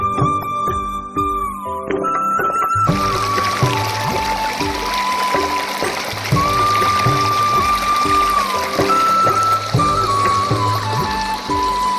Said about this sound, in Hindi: ये बहता हुआ पानी इतना सुंदर लगता है